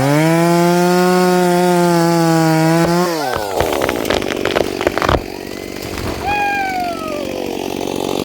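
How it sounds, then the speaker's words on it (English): A chainsaw milling fresh lumber for live-edge shiplap siding for an off-grid teepee drones loud and steady at first, then its pitch drops as it bites into the log, followed by rough cutting noise and a few rising whines. "So we have a bunch of different chainsaws in our arsenal."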